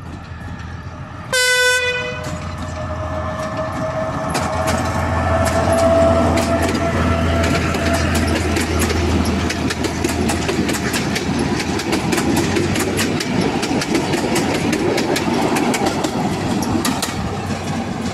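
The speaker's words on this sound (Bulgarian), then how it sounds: "влак тръгна" Passenger train hauled by locomotive 75 009 pulls away from a station, opening with a loud, close horn blast, then a steady engine rumble and rhythmic clickety-clack of wheels building and continuing throughout, with no talking.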